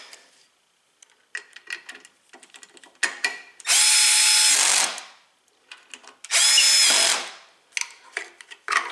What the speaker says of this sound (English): I have a setting of 4 on my screwdriver.